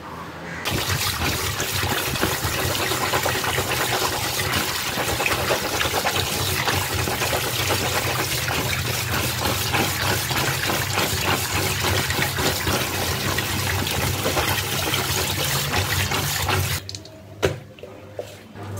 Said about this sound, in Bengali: আমটা ধোয়া হয়ে গেছে, ধুয়ে জল ঝরাতে রেখে দিয়েছি।